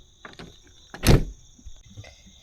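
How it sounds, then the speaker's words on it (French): A camper vehicle's side door opens in a single brief burst of latch and swing noise near the middle, close and fairly loud, with faint clicks before it and a steady high hum in the background. "on a cette porte qu'on peut ouvrir pour accéder à l'intérieur"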